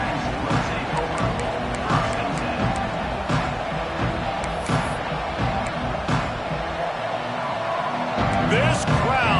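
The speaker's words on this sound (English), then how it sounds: "This crowd, full throat, spreading the eardrums and letting them know it's going to be a long day." A stadium crowd roars throughout a college football video game matchup between Nebraska and USC, a dense sustained wall of noise with sharp hits and a commentator talking over it.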